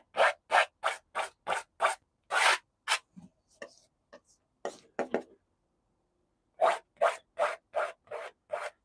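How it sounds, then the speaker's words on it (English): A palette knife pulled straight down across a painted canvas, repeated short rasping scrapes in quick rhythmic bursts, close and crisp, with a few quieter touches in between and no talk. "palette knife and just pull straight down"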